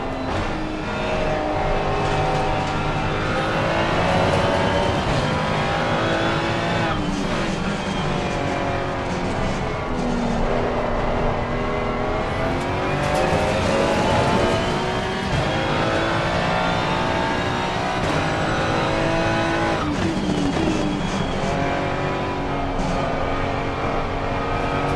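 Ferrari race car in a sim-racing video game, its engine whining continuously and loudly through shifting revs and gear changes, with faint tire noise, for the whole stretch and no talk.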